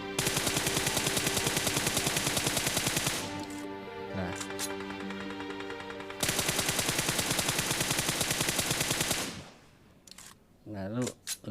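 Rapid bursts of automatic gunfire in PUBG Mobile, loud and dense with fast repeated shots in two long strings, then scattered sharper reports near the end.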